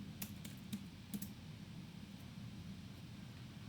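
Quiet keystrokes tap on a computer keyboard, a few sharp clicks spaced irregularly over faint steady background hiss, with no talking.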